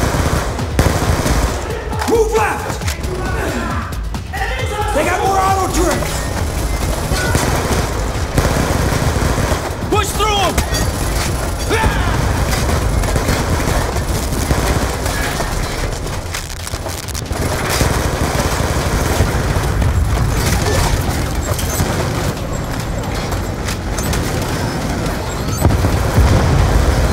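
Automated turret gunfire in the Call of Duty: Black Ops 2 story campaign, dense sustained bursts of machine-gun fire with booms mixed in, loud and continuous throughout, with voices shouting over the battle.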